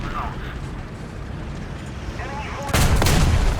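Gunfire in the War Thunder game with the German 8.8 cm Flak 37 self-propelled gun: low rumbling battle noise and distant thuds, then a sudden loud blast near the end, with a voice talking over it.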